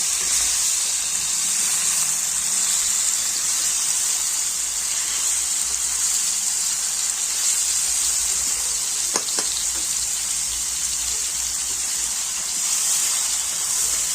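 Bitter gourd sautés in hot oil with a steady, bright sizzle that keeps going, broken by a couple of brief utensil clinks partway through. No one speaks.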